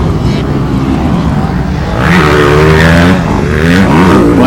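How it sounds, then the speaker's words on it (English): Motocross bike, an RM125, revving hard and loud at close range with a wavering, rising engine note, blended with outdoor crowd and background noise at a race. "Bike was revving to the moon on that one."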